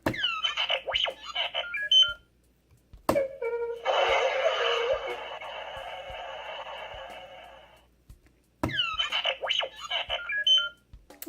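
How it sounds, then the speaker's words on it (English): Two bursts of chirpy, warbling electronic beeps and whistles come from a Star Wars R2-D2 Force Link toy. Between them a buzzy, static-like hiss plays, followed by a short silence before the beeping returns. Everything is close and clear. "then you get his beeping sounds"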